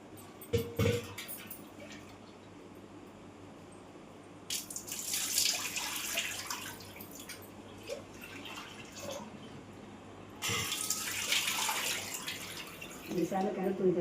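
A kitchen tap runs in bursts while moong dal and jowar rava are rinsed, water splashing into a vessel in two longer rushes with quieter handling between, faint and fairly close.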